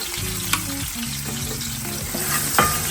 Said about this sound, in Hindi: इसमें यहाँ पे तड़का लगाया है लहसुन का, थोड़ा सा टमाटर।